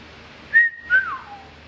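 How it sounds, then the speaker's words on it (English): Someone whistles two short, clear notes alone: a high pitch, then a second that slides downward and fades. "Do you know how to whistle?"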